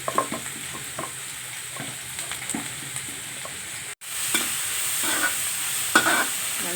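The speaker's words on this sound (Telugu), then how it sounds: "ఉల్లిపాయ పచ్చి ఉల్లిపాయ పచ్చిమిర్చి వేసేస్తున్నాను ఫస్ట్ కొద్దిగా వేగిన తర్వాత అసలు మిగతాయి వేయచ్చు" Raw onions and green chillies fry in a hot pan with steady loud sizzling, while a spoon stirs and scrapes now and then, for vegetable cutlets.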